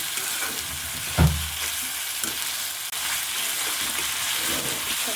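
Garam masala frying in a pan for a beef brain curry, a continuous loud close sizzle with stirring, one heavier thump of the spoon early on and a brief break midway, no speech.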